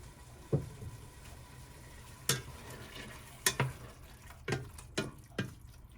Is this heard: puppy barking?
no